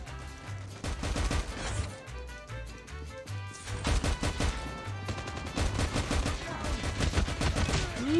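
Rapid automatic gunfire in COD Mobile, dense overlapping bursts that rattle almost continuously with brief dips, loud and close, with a faint voice underneath.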